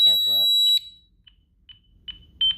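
A Honeywell home alarm system during a test gives a loud, steady electronic tone at first, then a string of short, sharp chirps and beeps in a quiet room, with a brief synthetic voice early on.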